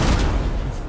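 Fireworks explode in the video game Fireworks Mania, a loud, dense burst of crackling booms packed into under a second.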